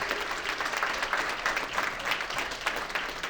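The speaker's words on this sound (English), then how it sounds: "Y'all give this brother another big round of applause." Steady applause from dinner guests fills a celebration dinner, an even wash of clapping that stays constant throughout at moderate volume with no voices.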